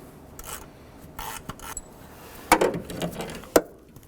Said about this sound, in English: we're going to go ahead and use our 10mm socket and a ratchet